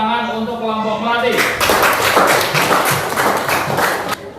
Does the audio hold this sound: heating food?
no